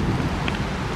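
Rain falls in a brief, steady wash of soft hiss outdoors, even and unbroken, with no speech.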